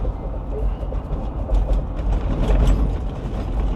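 An INEOS Grenadier rumbles and rattles over railway tracks on a rough road, with irregular mechanical clunks and thumps as the tires cross the uneven rails, continuous and close.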